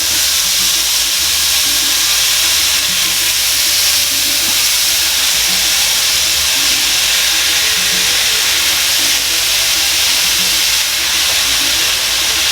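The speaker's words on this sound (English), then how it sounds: "So we're going to go ahead and just brown the meat" Ground meat browning in a hot pan for empanada filling, a loud, constant hiss of sizzling fat that stays even throughout with no voices.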